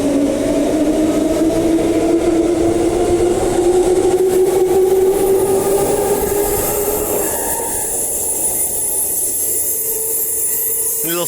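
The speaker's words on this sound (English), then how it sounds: "Little flash of the lights on the front and a honk" An outbound train passing Bayswater station platform 2, a loud close rumble of wheels and carriages with a rising tonal whine, a short horn honk, and squealing near the end.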